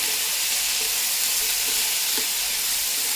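Ivy gourd pieces sizzle steadily in a hot pan with salt while being stirred, a close, continuous frying hiss.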